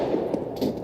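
Gunfire in Counter-Strike: Global Offensive during a competitive ECS Season 4 esports match, heard as a few sharp, loud shot bursts in close succession over a dense background of game noise.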